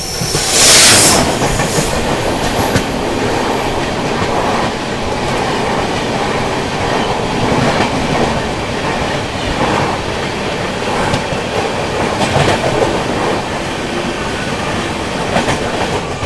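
The 12310 New Delhi–Rajendra Nagar Patna Tejas Rajdhani Express passes near Aligarh Junction, a steady loud roar of wheels and carriages with clickety-clack rhythms and faint squeals running the whole stretch, no voices.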